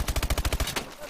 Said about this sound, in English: They keep coming! They keep shooting!